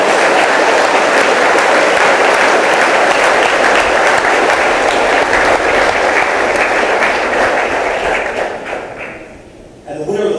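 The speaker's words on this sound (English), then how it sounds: "Please join me in a round of applause for all of our NCO of the Year nominees." Loud, dense applause fills a hall at a Hawaiʻi Air National Guard awards ceremony, honoring NCO of the Year nominees. It stays steady and sustained, then thins and fades near the end before a brief burst of sound.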